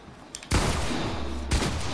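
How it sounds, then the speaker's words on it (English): Gunfire aimed at the player in a video game, two loud sustained bursts of rapid shooting, one starting abruptly and a second hitting a second later, close and dominant. "Who is shooting at me?"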